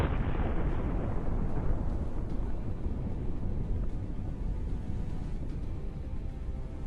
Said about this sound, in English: Incredible explosion creates a new cloud against the blue sky.